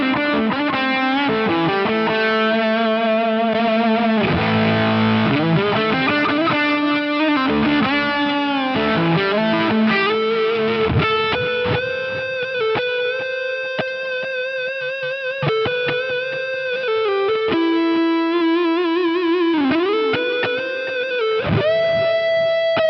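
An electric guitar runs through a fuzz pedal and a compressor, playing a thick, sustained distorted melody with bends and held notes, loud and steady, with no talking.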